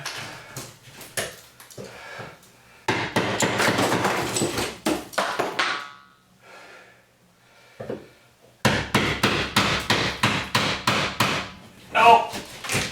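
Inside a kitchen during tile backsplash removal, a tool is hammered down along a wall stud in bursts of sharp, rapid blows, close and fairly loud, with pauses between the bursts.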